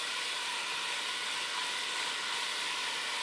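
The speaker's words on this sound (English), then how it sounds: "And you can definitely hear that sizzle." Continuous soft hissing sizzle of garlic frying in olive oil, even and unbroken, heard close with no voices.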